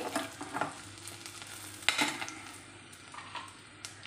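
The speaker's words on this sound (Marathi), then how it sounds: "कांदा थोडासा आपण भाजून घ्यायचा आहे" Onion roasts in a pan beside fennel seeds and coriander, a soft sizzle broken by a few scraping stirs and light utensil clinks, quiet and close with no voices.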